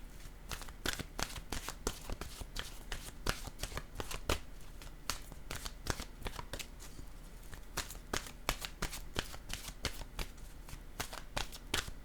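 Tarot cards being shuffled by hand, a steady run of crisp riffling and slapping strokes repeated throughout, close and fairly quiet with no talking.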